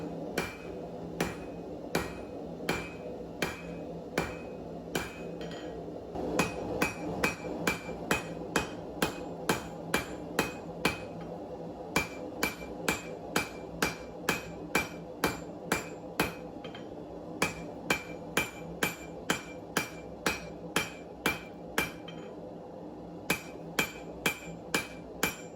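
Steady hand-hammer blows on the tang of a main gauche parrying dagger during forging: a long, even series of sharp, ringing metal-on-metal strikes about twice a second, close and loud, with a constant low shop hum beneath.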